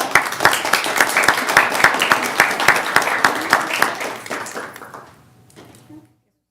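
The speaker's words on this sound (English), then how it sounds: "Can we give them a round of applause?" An audience at a county transportation services meeting in El Paso claps in steady applause for several seconds, then fades into quiet room noise.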